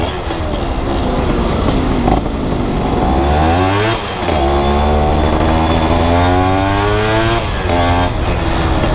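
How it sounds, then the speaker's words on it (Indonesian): A Yamaha F1ZR motorcycle with a loud CLD C1 racing exhaust revs repeatedly, pitch climbing and dropping in several sharp surges, close and aggressive, with no voices. "Suara motor ini tambah enak nggak knalpot dengan knalpot ini?"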